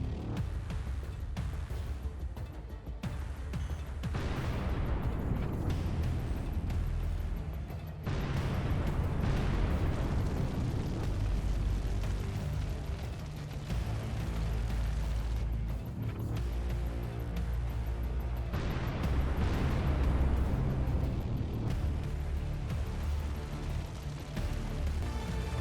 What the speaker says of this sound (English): Ukrainian artillery delivered a powerful fire strike that destroyed some of the equipment.